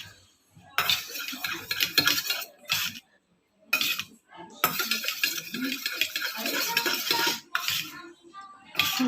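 Utensil scraping and clinking in a pan while chilli capsicum macaroni ingredients are mixed together, in bursts of busy stirring broken by brief pauses, close and fairly loud with no talking.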